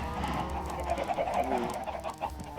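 Several chickens cluck softly in quick, irregular bursts over a faint background hum on a farm in Minecraft 1.18, fairly quiet and without any voices.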